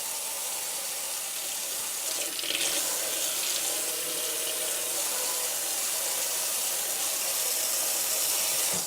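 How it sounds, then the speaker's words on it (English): Cold water runs steadily from a kitchen tap during home chèvre cheesemaking, a continuous close splashing hiss that stays even throughout with no talking. "So we're going to go ahead and get some cold water."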